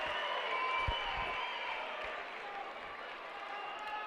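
A crowd applauds and murmurs excitedly at a college wrestling match, Nebraska against Campbell at 165 pounds, a fairly soft, continuous wash of clapping heard from a distance.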